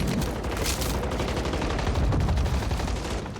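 A grenade launcher fires during a zombies-mode video game, a thick, continuous barrage of blasts and rapid shots packed together, loud and close, with no clear gaps between them.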